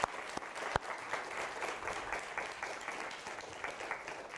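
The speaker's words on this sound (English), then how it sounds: "giving them a round of applause" An audience at a lecture gives a round of applause, heard as a fairly faint, distant patter of many hands with a few sharper individual claps standing out.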